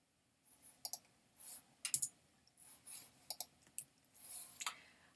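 A computer mouse clicks close and crisp in a quiet room, a dozen or so sharp clicks arriving in irregular pairs and singles.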